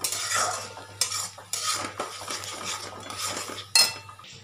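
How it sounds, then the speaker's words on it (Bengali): Tomato, onion and green chilli with Kashmiri chilli powder and turmeric being stirred in a pan, repeated metal spoon scrapes and clinks over a light sizzle, close, with no speech. "আর এই দেখো টমেটো, পেঁয়াজ আর কাঁচা লঙ্কা দিয়েছি, দিয়ে এর মধ্যে একটু কাশ্মীরি লঙ্কার গুঁড়ো আর হলুদ গুঁড়ো দিয়ে এটাকে কষাবো।"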